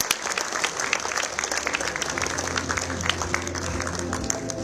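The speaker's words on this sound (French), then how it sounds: "Je croyais entendre des applaudissements pour cette belle présentation." Enthusiastic applause from an audience at the presentation of the Tour Cycliste de Guadeloupe cycling race; many hands clap steadily and densely throughout, close and lively, with a low background hum beneath and no speech.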